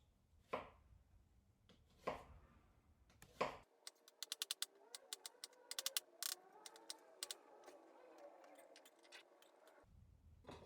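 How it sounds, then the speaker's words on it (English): A knife dices vegetables on a cutting board: a few isolated chops, then a quick irregular run of sharp, close taps that stops abruptly, followed by a couple of single chops. "you're dicing it into these little pieces about that big"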